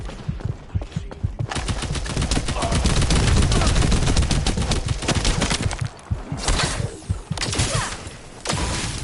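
Rapid, punchy shotgun blasts and heavy gunfire in the shooter game The First Descendant, a dense, loud barrage of repeated bangs with brief lulls and a few pauses toward the end.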